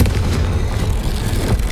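A Confringo explosion spell bursts in Hogwarts Legacy on PS5, a loud, rumbling boom that stays heavy and low for under two seconds with no voice over it.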